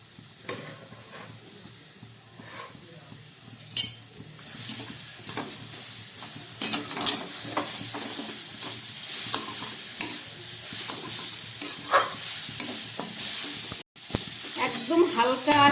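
Grated coconut and date palm jaggery cooking down in a pan for a dudh puli sweet, with repeated scraping strokes of a spoon over a soft, steady sizzle that grows busier toward the end.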